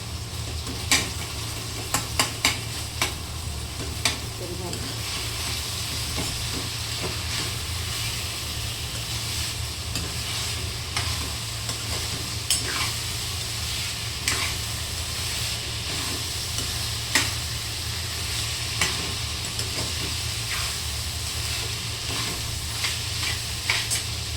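Vegetables with tomato stirred and frying in a pan for a mung dal dish with brinjal: a steady loud sizzle with frequent scraping clicks of a spoon against the pan throughout, no talk.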